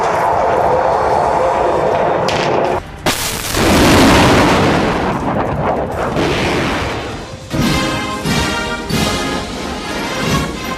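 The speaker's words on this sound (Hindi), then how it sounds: "लॉन्चिंग पैड से परमाणु मिसाइल की लॉन्चिंग से" Nuclear missile launched from a launch pad: a loud roaring blast with broadband rumble, a sharp onset around the middle and sustained thunderous noise, without talk.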